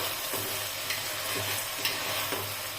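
Vegetables for a vegetable pulao being stirred in a pot, with a spoon scraping and shuffling in a few soft strokes over a steady, close, sizzling hiss; no one speaks.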